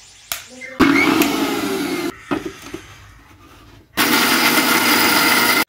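A kitchen mixer grinder whirs loudly as it grinds cumin, red chili, garlic and ginger with water, running in two bursts with a brief rattling pause between and an abrupt stop.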